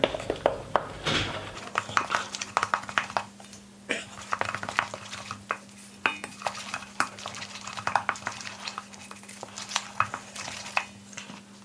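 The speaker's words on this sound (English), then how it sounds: "Now I want to add a little flour at a time. I think it's easier to mix that way." Flour is stirred into beer in a bowl for no-knead black beer bread, with a steady run of soft scraping and clinking from a utensil against the bowl over a faint background hum.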